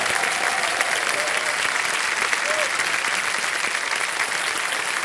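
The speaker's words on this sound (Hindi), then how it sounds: "ताली बज जाए जोरदार।" Loud studio audience applause on a television quiz show set, a dense, continuous roar of clapping that holds steady throughout, with faint voices or music tones buried underneath.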